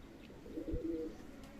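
Adult pigeons for sale give a brief, soft low cooing phrase, close but quiet, with a faint background hum.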